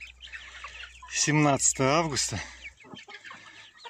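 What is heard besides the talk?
Livny marbled chickens clucking during evening feeding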